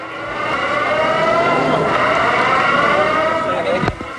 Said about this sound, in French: Seules des sirènes au loin rompent le silence.